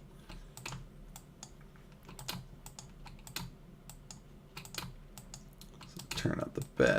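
Keyboard keys clicking while drawing with shift-click straight lines, a steady run of sharp close taps and clusters, growing louder and busier near the end.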